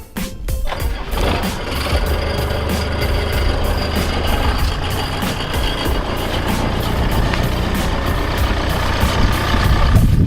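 A Land Rover Defender 110 does donuts through about a foot of fresh deep powder snow, its engine revving loud and close with a rising, continuous roar and churning rumble.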